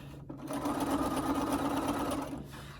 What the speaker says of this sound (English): I'm going to be doing my 1/4 inch seam up here